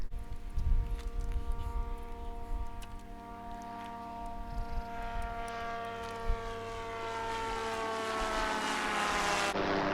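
A helicopter drones overhead with a layered, buzzing engine hum that grows steadily louder toward the end, with some handling noise near the start and no talking.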